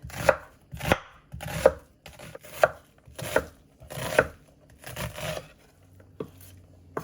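Half an onion is chopped with a knife on a board, about nine distinct close knocks at a steady unhurried pace with soft slicing between, then a faint hum.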